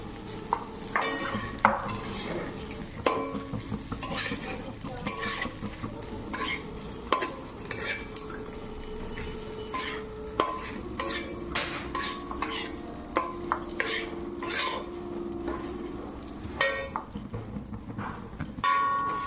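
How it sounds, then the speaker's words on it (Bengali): Raw rice for pulao lightly fried and stirred in a pan, with continuous soft sizzling and a spoon scraping and clinking against the metal in irregular strokes, close and moderately quiet, with no talk. "ভেজে নিচ্ছি বন্ধুরা। হালকা করে ভেজে নিচ্ছি।"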